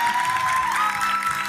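A TV studio audience applauds the band at a singing contest show while the band keeps playing, with a sustained tone and a sliding note riding over a wash of clapping.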